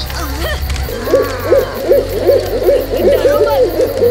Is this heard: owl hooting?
yes